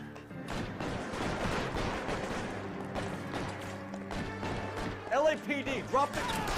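Rapid automatic weapons fire crackles through a shootout in L.A. Noire, dense bursts running throughout with a few sharper louder cracks near the end, mixed with game chatter.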